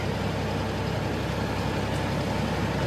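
A tractor drives along a farm lane, its engine a loud, steady, continuous rumble close by with no talking.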